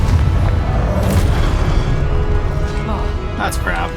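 A Confringo blasting spell explodes in the Hogwarts Legacy video game, a deep rumbling boom spread across dense, continuous game noise, with a voice talking over it.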